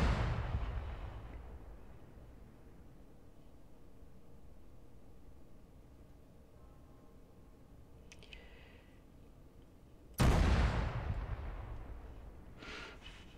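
Artillery fires in the video game ArmA 3. A heavy boom opens and then decays into a long rumbling tail, and after a quiet stretch with a faint click a second loud blast hits and rolls away.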